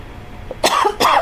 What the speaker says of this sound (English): It's just the smoke in the air from all the fires keeps me coughing.